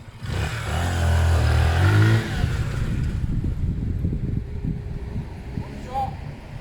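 Zontes Mantis 125cc motorcycle ridden past, engine revving loudly up close then easing off, with wind buffeting the microphone and a voice speaking over the tail end.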